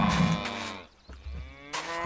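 A giant cow in the video game Poetica lets out a deep, drawn-out moo, loud and close, followed by a brief pause and the start of another low bellow.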